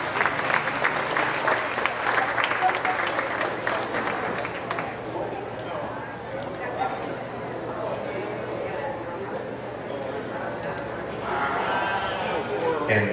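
Loud crowd applause at a county fair sheep show fills the first several seconds, then fades into a general murmur with lambs in the background, swelling again near the end.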